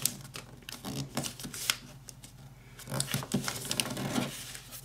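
Origami paper being folded and unfolded by hand while making a jumping arrowhead, a run of crisp close crinkles and soft taps in an irregular rhythm, with no voice.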